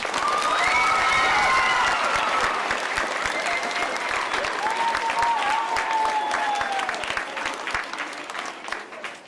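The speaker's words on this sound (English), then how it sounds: "Give her a round of applause." A crowd of elementary school students claps loudly and steadily for a substitute teacher, with scattered voices and cheers mixed in before the clapping tapers off.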